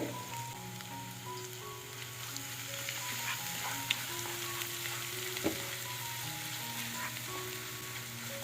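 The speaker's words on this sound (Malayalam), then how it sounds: "വെളിച്ചെണ്ണ ചൂടായി വരുമ്പോഴേ കറിവേപ്പില ഇട്ട് കൊടുക്കുക ഇത് നമ്മൾ നേരത്തെ ചതച്ച് വെച്ച ഒരു ഇഞ്ചി വെളുത്തുള്ളി പിന്നെ സ്പൈസസ് ഒക്കെ ഉണ്ടല്ലോ അതൊക്കെ ഒന്ന് ഇട്ട് കൊടുത്തിട്ടുണ്ട്" Curry leaves, crushed ginger, garlic and spices fry in hot coconut oil with a steady, even sizzle and crackle. A few faint clinks and stirring sounds run underneath throughout.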